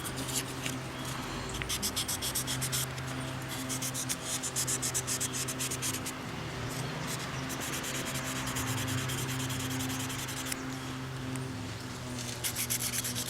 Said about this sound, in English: it looks like it'd be quite a bit of sanding